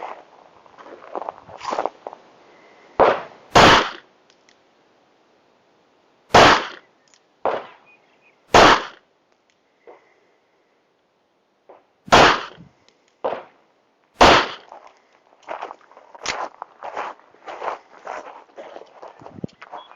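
Several sharp, loud gunshots from a Tisas PX-9 GEN3 9mm pistol at an outdoor range, spaced irregularly with quiet gaps, followed by softer clicks and handling rattles.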